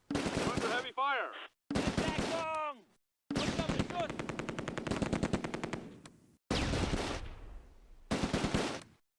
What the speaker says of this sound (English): The Schwerer's heavy machine gun sets up in one of the ruins. We need to pull back! We're pinned down! Under heavy fire!